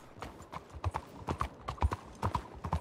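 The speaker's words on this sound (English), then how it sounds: "You almost ran me over with your horse." Horse hooves clip-clopping in Red Dead Redemption 2, a run of crisp irregular hoofbeats at close range, fairly quiet, with no talk over them.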